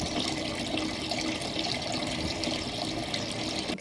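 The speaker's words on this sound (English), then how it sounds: "I just love the sound of the water flowing" A garden fountain runs with a steady, continuous splash and trickle of flowing water, even and unbroken for several seconds.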